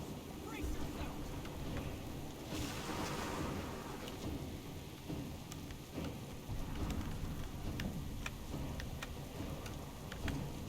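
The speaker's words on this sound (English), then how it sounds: "This storm will soon overwhelm us." Steady rain with low rumbling thunder and scattered ticking sounds fills a thunderstorm at sea in a video game, continuous and fairly dense throughout.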